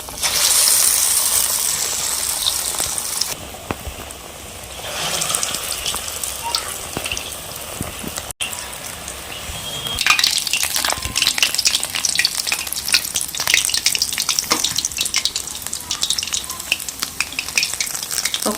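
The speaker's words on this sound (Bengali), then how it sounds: "ব্যাটারে চুবিয়ে ভেজে নেব।" Battered cauliflower pakoras fry in hot oil with a steady, close sizzle and crackle, punctuated by occasional stirring clinks and brief bursts as pieces are moved, with no voices.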